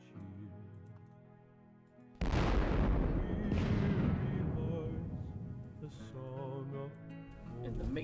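Artillery fire from a Battle of Gettysburg war game: a sudden loud boom breaks over quiet background music and rolls on, followed by further cannon shots and rumbling as the noise slowly fades.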